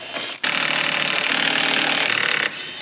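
Loud, steady power-tool whir running for about two seconds, nearly continuous with a slight rattle, as mounting bolts are removed on a Ford 3.5L EcoBoost engine during a VCT unit replacement.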